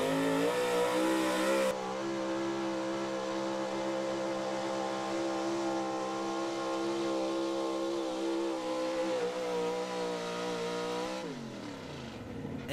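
Pulling truck engine at a truck and tractor pull at a mechanic shop, roaring steadily at high revs with tires spinning for over ten seconds, then cutting off near the end; loud and close, no talk.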